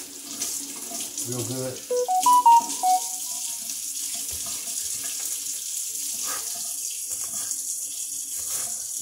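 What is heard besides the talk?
tap water running while washing green onions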